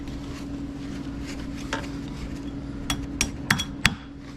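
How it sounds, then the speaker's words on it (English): Hammer tapping a front CV axle on a Polaris Sportsman 570 SP, a few sharp metallic taps spaced unevenly near the end, close and moderately loud over a quiet workshop background. "Tapping it over with your hammer."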